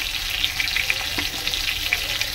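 Potatoes frying in a pan with cumin and slit green chilies, a steady close sizzle with light crackles and faint stirring, no voice over it.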